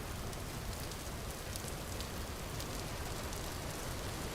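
Steady rain pours in the video game Vintage Story, a continuous even hiss with faint scattered drop ticks, alone and unbroken throughout.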